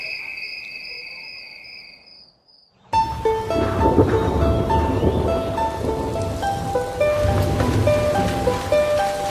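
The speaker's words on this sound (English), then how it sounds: "It's a rainy day in Gitaivo." Steady rain on an outdoor tropical scene, a dense hiss with scattered drips and patters that starts abruptly after a quieter stretch of high chirping insects, loud and continuous to the end.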